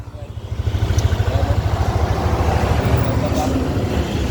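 A Yamaha Aerox scooter engine idles close by with a steady, rapid putter that holds even throughout, no knocking.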